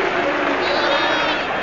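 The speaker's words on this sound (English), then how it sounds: "Polite applause for the South Australian." A large crowd at a 1991 AFL match between Adelaide Crows and Hawthorn murmurs and claps mildly, a broad, steady roar of distant applause and voices with no standout peaks.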